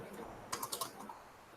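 Quick keystrokes on a computer keyboard while running a notebook cell with a Control or Shift plus Enter shortcut: four faint, rapid clicks close together, set against a quiet room background.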